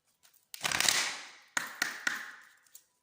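Oracle cards shuffled by hand during an angel-message reading: a long riffling rustle followed by a few sharp taps and shorter shuffles, close and alone.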